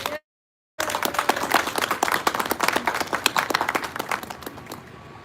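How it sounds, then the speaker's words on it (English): An audience at a school naming ceremony breaks into clear, close applause after a brief silence, a crisp crowd of hand claps that stays steady and then gradually thins toward the end. "Please join me in giving Joey a round of applause"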